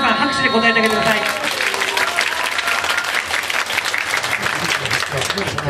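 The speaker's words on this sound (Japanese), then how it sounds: "会場の皆さん拍手で答えてあげてください。" An audience at a theater event staged aboard a local railway train breaks into steady applause, a loud, dense wash of clapping that takes over after a brief musical tone and continues to the end.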